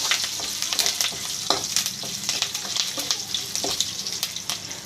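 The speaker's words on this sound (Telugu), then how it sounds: "కరివేపాకు వేసుకుందామండి" Curry leaves crackle and sizzle in hot oil for a dal tempering, with dense close spitting pops and faint scraping throughout.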